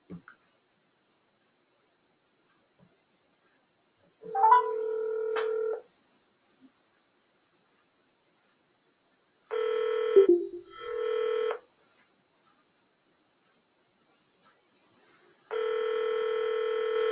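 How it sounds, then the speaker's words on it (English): Tones from a phone being used to call sound in a quiet room: a short beeping burst, then a longer sequence of steady tones with brief gaps, then another sustained tone near the end. "I'm going to call you on my phone in case you can still hear me."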